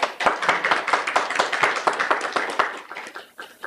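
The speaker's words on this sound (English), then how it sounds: "So please join me in extending a round of applause for Professor Carp." Audience applause breaks out for a professor at a book talk, a dense run of hand claps filling the room for a few seconds, steady, then thinning toward the end.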